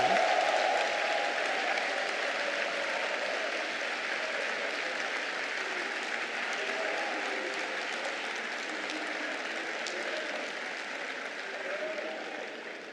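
A large crowd at a PDCI-RDA party rally in Côte d'Ivoire, after Tidjane Thiam's election as party president, cheers and applauds in a continuous, roaring wash of sound that stays strong for the whole span and eases slightly near the end.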